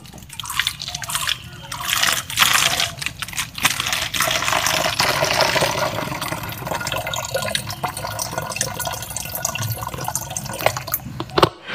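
Water pouring into a plastic bottle for a water-pressure toy car, a steady close trickle and splash that fills for several seconds with gurgling drips, ending abruptly.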